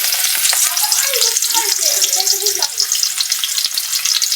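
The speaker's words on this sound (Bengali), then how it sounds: "কড়াইতে তেল দিয়ে দিছি এখন আমি পেঁয়াজ কুচি দিয়ে দিলাম" Chopped onions hit hot oil in a wok and fry with a loud, close, crackling sizzle that stays steady and dense, with faint stirring underneath.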